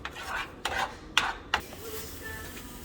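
A spoon scrapes and clinks against a pan while chamoy dip is stirred over medium to low heat, giving four distinct close strokes followed by a quieter low simmering hiss.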